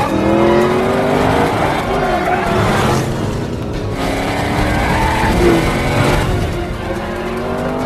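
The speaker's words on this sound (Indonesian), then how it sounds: "John sempat melihat sebuah mobil sport melarikan diri dan John langsung melakukan pengejaran" A sports car races off in a film car chase, with a loud, roaring engine and squealing tires. Other engine noise and movie sound effects swell and fade around it.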